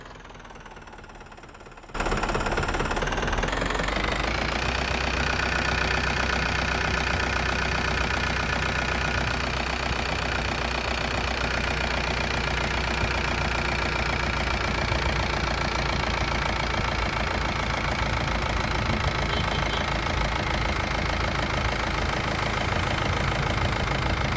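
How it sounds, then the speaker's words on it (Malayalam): A Mahindra Invader 4x4 jeep's engine starts up and settles into a steady idle, a loud, continuous rumble with a knocking, vibrating texture, heard up close and alone for over twenty seconds. "ഈ ഒരു വാഹനത്തിൻ്റെ എഞ്ചിൻ്റെ കണ്ടീഷനും കൂടെ ഏകദേശം നോക്കാമെന്ന് കരുതി എഞ്ചിൻ സൗണ്ടൊന്നും വലിയ കുഴപ്പമൊന്നുമില്ലായിരുന്നു"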